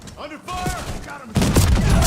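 Gunfire in the video game Call of Duty: Warzone, a loud burst of rapid shots erupting after a stretch of speech and continuing as a dense, close rattle.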